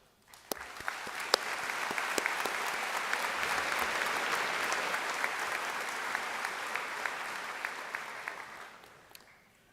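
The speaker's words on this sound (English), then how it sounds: "a round of applause" A crowd at a high school graduation ceremony applauds, the clapping swelling up quickly, holding steady for several seconds, then tapering off to a few last claps.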